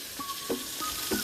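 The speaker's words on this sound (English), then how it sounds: "And the other pieces are frying up." Pork pieces sizzling steadily in a hot pan, a soft continuous frying hiss with a few faint clinks of stirring, no voices.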